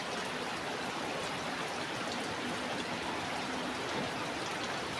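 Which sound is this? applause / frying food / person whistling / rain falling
rain falling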